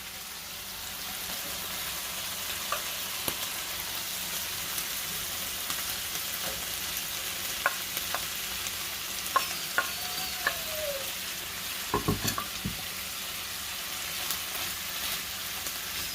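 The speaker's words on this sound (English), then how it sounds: "Now we're just going to cook this on a medium heat until the vegetables cook down." Browned venison heart meat and vegetables fry over medium heat in a pan, a steady close sizzle with occasional clacks and scrapes of stirring, no voices.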